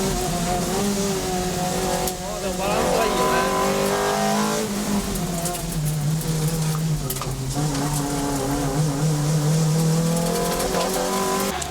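A Toyota Celica with a 190 hp 2ZZ-GE engine drives hard around a track lap. The engine note is loud and steady and rises and falls through the gears, with brief tire squeal heard close up.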